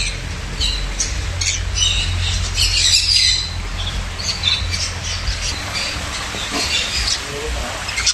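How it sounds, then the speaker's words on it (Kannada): A grey parrot squawks loudly and repeatedly in a bird aviary in Ooty, with harsh, bright calls in bursts over steady background noise and other birds, and faint voices nearby. "This one is parrot. Yeah, gray parrot."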